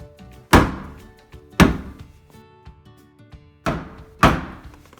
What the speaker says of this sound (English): So now we can start pounding this